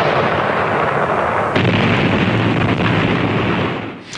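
An M1 Abrams tank main gun fires a kinetic energy anti-tank round, a single heavy blast about a second and a half in over a loud, wind-buffeted rumble that fades toward the end.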